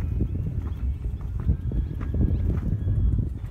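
A horse moves over ground in a training session, its hooves clip-clopping steadily and fairly close amid low rumbling background noise.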